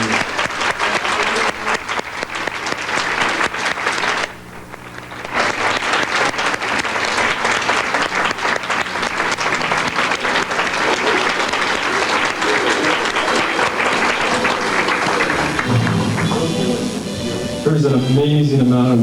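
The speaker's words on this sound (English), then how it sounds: "Give them a big round of applause." Sustained, dense clapping from an indoor crowd at a bridal showcase cheers on the models, steady and loud for nearly the whole stretch, with a speaking voice emerging near the end.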